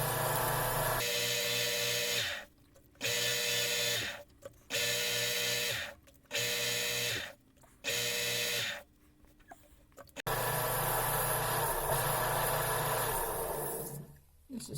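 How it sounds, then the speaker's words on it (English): A rotary power tool sands a crushed opal ring in short repeated bursts, a loud close whirring grind that stops and restarts several times before running longer at the end. "I try to just get it done with sanding."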